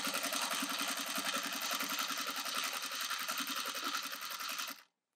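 A sewing machine stitches steadily across the top of a wool felt coffee sleeve in one rapid, even mechanical run lasting about five seconds, then cuts off abruptly, with no talking.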